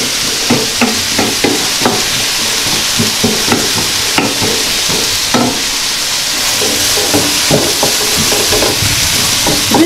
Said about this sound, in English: just onion and the oil, look, the smell is so nice.